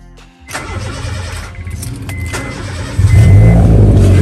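A car engine cranks and catches at about half a second, idling steadily up close before revving louder near the end, with no one speaking.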